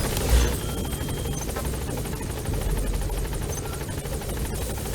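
Helicopter in the video game Metal Gear Solid 5, a steady loud rotor drone with rapid chopping thrum continuing throughout, alone with no speech.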